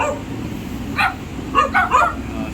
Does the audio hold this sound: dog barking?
yes